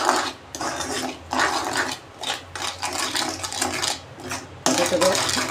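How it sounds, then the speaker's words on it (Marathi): Crumbled paneer and khawa being mixed together by hand in a bowl for a quick sweet, giving a steady run of close scraping and rustling strokes with short pauses between them. "आता आपण हे एकत्र असं मिक्स करून घेऊया"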